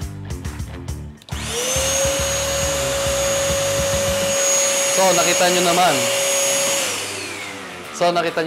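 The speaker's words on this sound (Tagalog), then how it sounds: "I-start na po natin siya. So, dito po tayo sa vacuum slot." A 2B 1000W 10L vacuum cleaner starts up with a loud, steady motor whine and roar while it sucks up torn tissue, running close by for several seconds before winding down, with a person talking before and during.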